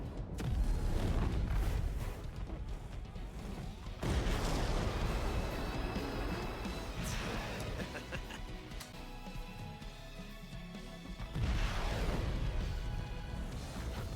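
Sustained roaring rumble of a first rocket igniting and lifting off in the Dr. Stone anime, loud and continuous with surging bursts, no talk over it.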